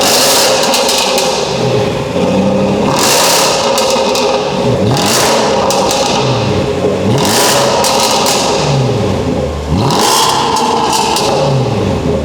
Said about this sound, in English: we removed the resonator and the mid silencer and it sounds mad